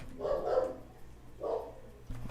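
A dog barks twice in the background of a home, two moderate, somewhat distant woofs about a second apart over a low steady hum.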